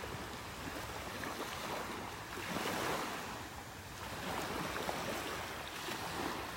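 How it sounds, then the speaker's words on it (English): Ocean waves break on a sandbar off a beach in North Naples, Florida, a steady broad surf roar that swells and recedes, with wind buffeting the microphone and no voices. "waves breaking on the sandbar out here"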